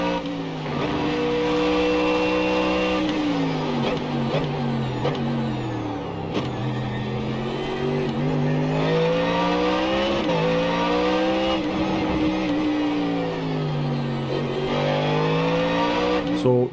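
A Ford Mustang GT3 races around the Sachsenring circuit in the iRacing simulator, its engine revving hard and continuously, climbing through gears with sweeping pitch rises and drops as it brakes and accelerates through corners.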